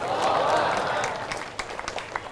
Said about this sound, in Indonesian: Tepuk tangan itu gunanya untuk menghilangkan ngantuk.